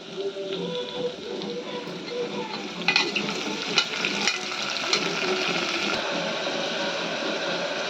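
Small mushrooms fry in a pan for biryani with a dense, even sizzle like light rain, broken by a few sharp stirring clicks and scrapes near the middle.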